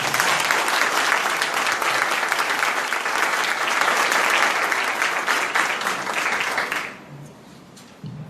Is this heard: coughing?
no